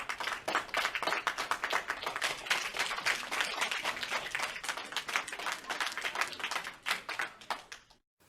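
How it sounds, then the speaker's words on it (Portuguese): Audience clapping at a talk, dense sustained applause from many hands for several seconds, loud and close, tapering off and stopping abruptly at the end. "já estão batendo palmas"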